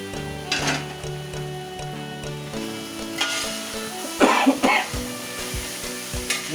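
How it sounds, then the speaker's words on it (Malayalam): Fried chicken pieces stirred in a hot pan for chilli chicken, a continuous sizzle broken by a few loud scraping spatula strokes and clattering taps against the pan, with no talking. "ഇതിപ്പോൾ നമുക്ക് ഇതിലോട്ട് നമ്മൾ ഫ്രൈ ചെയ്ത് വെച്ചിരിക്കുന്ന ചിക്കൻ ആഡ് ചെയ്ത് കൊടുക്കാം."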